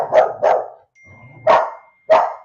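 A dog named Logan barks nearby, four sharp, loud barks spaced out over a couple of seconds with a low growl between them.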